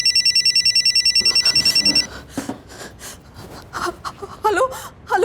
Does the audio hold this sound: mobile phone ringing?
yes